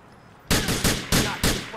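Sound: gunshot headshot in video game Grand Theft Auto IV

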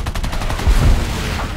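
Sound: aircraft machine gun fire in War Thunder video game

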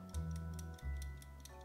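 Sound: ticking egg timer on a GTA 5 Rockstar vault combination lock

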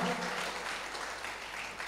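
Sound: applause from congregation

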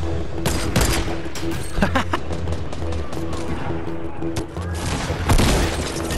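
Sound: gunfire in the video game Fortnite

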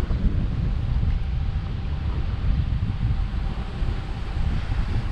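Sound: strong wind blowing into microphone

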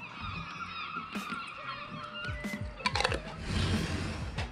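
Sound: seagull calling

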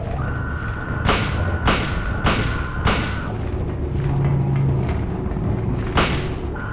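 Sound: gunshots in the Silent Hill video game

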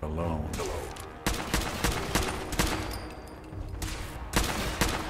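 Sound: gunfire from Fallout 4 video game

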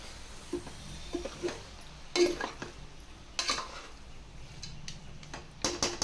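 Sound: stirring country chicken curry with masala in a pan

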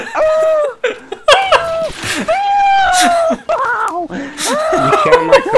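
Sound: person imitating whale sounds

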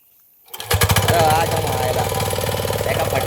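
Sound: power tiller engine running

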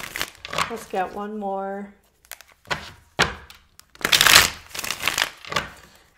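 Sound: shuffling tarot cards

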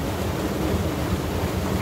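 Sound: river water flowing

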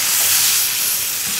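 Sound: beef fillet searing in a hot pan with butter

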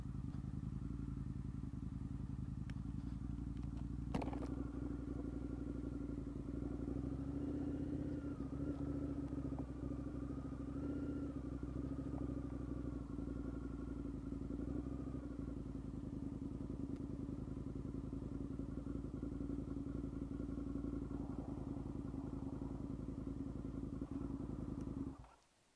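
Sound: Indian FTR 1200 motorcycle engine running

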